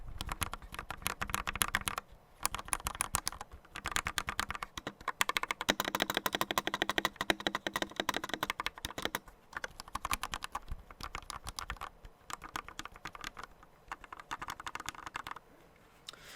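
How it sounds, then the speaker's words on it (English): Typing on a custom KBD67V2 MKII mechanical keyboard, a close, steady clatter of keystrokes in quick bursts with brief pauses, heard alone with no talking. "They have that like nice smooth sound."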